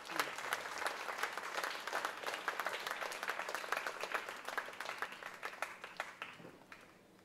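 An audience at a charitable event gives a round of applause, dense clapping rising quickly and holding steady before thinning out near the end, fairly faint and heard from a distance.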